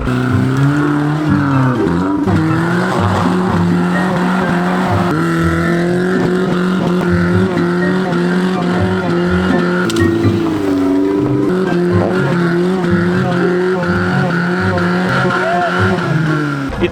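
A BMW E46 fitted with tractor tyres, stuck in a pond, revs hard and drones continuously, close and loud, with wheels spinning; voices shout faintly underneath.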